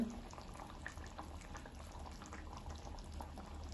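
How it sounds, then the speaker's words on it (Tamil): A vegetarian fish gravy bubbles at a low simmer in a pot, giving off a faint, steady, soft boiling burble with no voices. "பாருங்க கொதிச்சு அவியுது"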